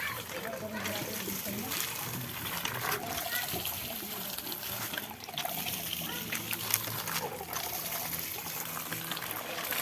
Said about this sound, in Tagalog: Nandiyan yung batang masipag magbomba oh.